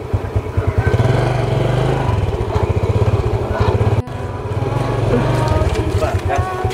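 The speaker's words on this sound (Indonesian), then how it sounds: "Ntar deh, aku parkir motor dulu." A motorcycle engine idles and putters loudly nearby as it is being parked, a steady low rhythmic thrum with a brief cut partway through, then running on.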